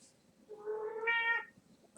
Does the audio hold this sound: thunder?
no